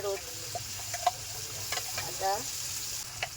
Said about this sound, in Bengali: নিরামিষ আলুর দমের জন্য মশলাগুলো খুব ভালো করে কষে নিতে হবে।